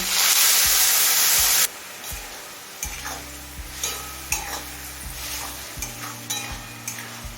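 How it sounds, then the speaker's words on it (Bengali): Water hits a hot pot of dal with turmeric, cumin and salt in a loud hissing burst, then gives way to quieter stirring with spoon scrapes and gentle simmering sizzle. "জল দিয়ে সব কিছু ভালোভাবে মিশিয়ে নিলাম এবার মিডিয়াম ফ্লেমে খুব ভালো করে কষিয়ে নেব"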